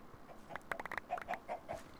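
Glowstone chickens in the Minecraft Sky Factory 3 modpack cluck in a quick series of short, close calls over a faint background, with no talking.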